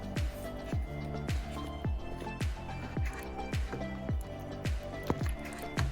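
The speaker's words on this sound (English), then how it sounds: "Stir those peppers in there." Peppers being stirred in a pot for a meatless Filipino Asian menudo, giving a steady run of wet squishing scrapes roughly every half second, close and fairly loud, with music-like tonal bands underneath.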